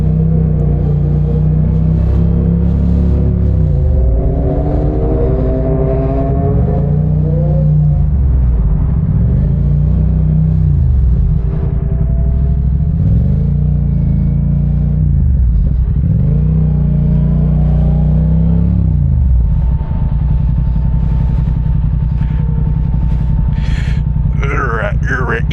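An engine fuelled with the wrong gas runs unevenly on a group ride in a Dallas dust storm, a loud steady rumble with wavering pitch and repeated surges, and a voice heard briefly.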